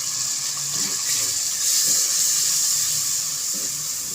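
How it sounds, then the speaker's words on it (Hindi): Water splashes into frying masala with cumin and chillies in a pot for beef nihari, giving a loud, continuous hissing sizzle that swells briefly midway. "एक घूंट में इसमें पानी डालूँगी ताकि मिर्चें ना जले हमारी"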